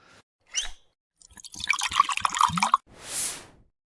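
A can of non-alcoholic beer cracks open with a short fizzy hiss, followed by liquid pouring and bubbling into a glass, close up and with no talking.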